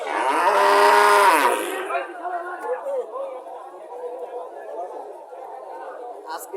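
A cow lets out a loud, drawn-out moo up close at the Chandimura cattle market in Cumilla, where Sahiwal dairy cows are for sale. Busy crowd chatter goes on underneath and continues after the call fades.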